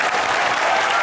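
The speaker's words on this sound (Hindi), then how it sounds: "तो एक बार तालियां इसके लिए प्लीज यार, प्लीज।" Studio audience on a Hindi TV comedy show applauding, loud, dense and close continuous clapping without pause, no talk over it.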